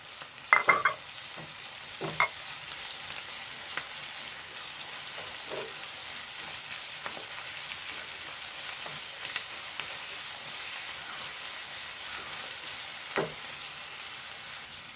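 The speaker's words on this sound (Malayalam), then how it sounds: "ഇനി ഇതിലേക്ക് ഇഞ്ചി വെളുത്തുള്ളി പച്ചമുളകാണ് ഇട്ട് കൊടുക്കുന്നത്" Ginger, garlic and green chilli sizzle steadily in a hot pan for Kerala-style chicken thoran, with a few sharp clinks of stirring early on and occasional spatula scrapes over the continuous frying hiss.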